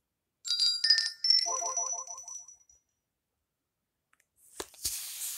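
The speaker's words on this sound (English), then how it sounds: "And windbell." Windbell ringtone on a ZTE Majesty smartphone: bright chiming tones with a short bouncy, fluttering run of notes, fading out after about two seconds, then a brief click and a soft hiss.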